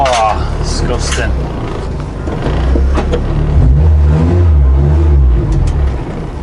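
A restored classic car drives through the Yorkshire Dales, its engine droning and rising in revs close up, loud and continuous inside the cabin, with a brief voice-like sound early on.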